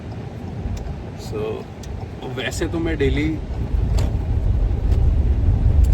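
A car driving through heavy traffic in Kanpur, India, with a low engine and road rumble that grows louder toward the end under someone talking.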